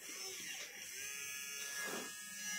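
Front axle of a 4x4 RC rock crawler truck spinning after being packed with sewing-machine oil, giving a faint, thin, steady high-pitched motor whine with slight wavering over a quiet background.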